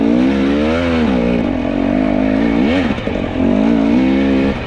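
An enduro dirt bike engine revs on the throttle, loud and close, its pitch rising and falling in repeated surges with no talk.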